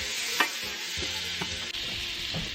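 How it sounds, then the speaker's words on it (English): Butter melting in a pan over medium heat while cooking Marry Me chicken: steady broadband sizzle with a few soft clinks and stirring scrapes, close and continuous. "Still over medium heat, we're going to add our butter,"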